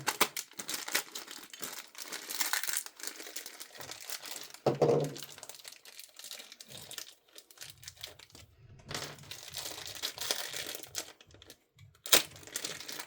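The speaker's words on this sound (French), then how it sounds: "On va déballer les deux toupies." Crinkling and rustling of plastic packaging as Hasbro Beyblade X spinning tops are unboxed, close and busy with scattered crunches and taps, no talking.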